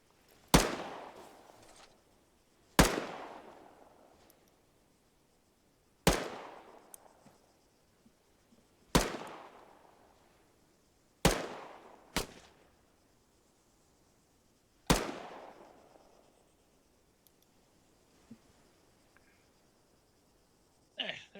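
Seven sharp, separate gunfire bursts in a video game battle, loud and close, each with a short fading tail, spaced irregularly a few seconds apart over a quiet background.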